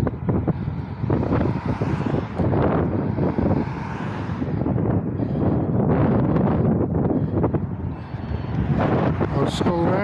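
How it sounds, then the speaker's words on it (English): Strong wind buffets the microphone outdoors on a ride near Woburn town, a loud continuous roar that gusts throughout, with a voice talking over it. "As you might guess, it's a bit breezy out here."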